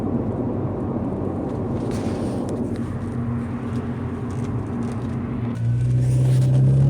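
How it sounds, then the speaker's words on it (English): Saab turbo engine with the muffler deleted, droning steadily while driving, with a rumbling exhaust note that swells and rises in pitch toward the end. "you can hear a little more of the, I think it's the turbo coming through"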